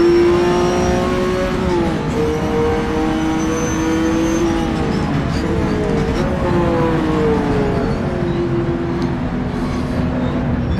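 A Porsche 917K race car circling Sebring in rFactor 2, its engine loud and close with a sustained rising and falling roar as revs climb and drop through gear changes, running alone without talk.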